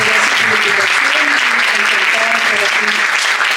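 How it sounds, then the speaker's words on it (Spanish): Audience at a talk on contemporary Latin American cinema applauds loudly and continuously, a dense clapping wash with faint voices mixed in beneath. "Un aplauso"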